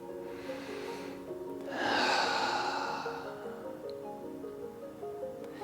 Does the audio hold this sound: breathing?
yes